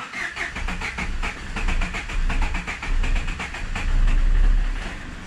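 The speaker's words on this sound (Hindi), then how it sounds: "थोड़ा सा लंबा सेल्फ लेगी," A Chevrolet Beat's starter cranks the engine for a long spell, a rapid rhythmic whirring chug close by that strengthens toward the end as the engine nears catching.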